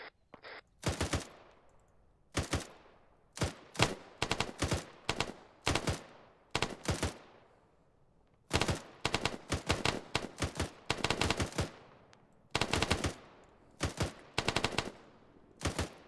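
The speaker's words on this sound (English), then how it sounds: "I believe they're shooting us now." Gunfire rings out during a military field training exercise: loud bursts of rapid automatic fire and single shots repeat in clusters, with short gaps between volleys and echoing decay.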